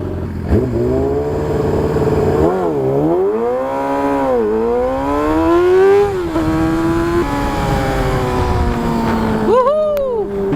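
A Yamaha R6 sport bike ridden fast on a morning ride, its high-pitched engine revving hard and dropping through repeated gear changes, loud and close with wind noise.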